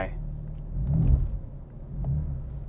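A 2018 BMW M4 with a dual-clutch gearbox pulls away, its low engine rumble swelling twice as it accelerates, close by and steady under the cabin hum.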